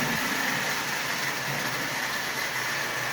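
A restored Marx Commodore Vanderbilt toy locomotive, once wind-up and converted to electric, runs with a steady whirring motor hum and faint rolling clatter, continuous and close.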